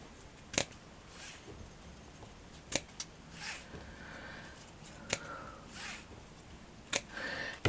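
Scissors snip through craft material strips for a flower cluster, giving a handful of sharp, isolated clicks spaced a couple of seconds apart over a quiet, close background.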